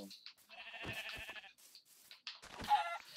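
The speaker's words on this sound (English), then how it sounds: "It's cool to have sheep, more sheep, but eh, I don't want more." Sheep in the Minecraft video game bleat in several short wavering calls, with two or three distinct bleats spread across the moment, clear and close.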